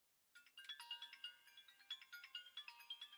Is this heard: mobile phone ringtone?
yes